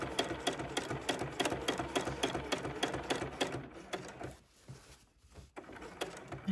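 A sewing machine stitches along an ironing board cover in a fast, steady rhythmic clatter, close and clear, slowing and pausing briefly before starting up again.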